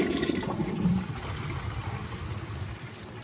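An American Standard Champion 4 Max toilet flushing nearby, a rushing gurgle of water that gradually eases into a softer trickling flow, with no talking.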